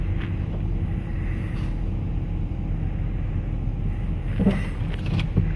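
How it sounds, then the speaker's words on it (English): Steady low engine rumble and road hum inside a moving car with a pet dog aboard, continuous and even throughout, with a few faint clicks and rattles near the end. "he loves going bye-bye in the car"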